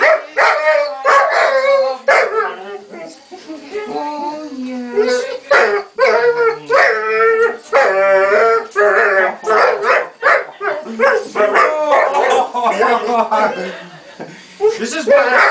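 A dog barks, yips and howls repeatedly, close and loud, with drawn-out wavering howls in the middle. People talk and laugh over it throughout.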